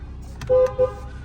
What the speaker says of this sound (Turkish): Kornamız aktif olarak çalışıyor.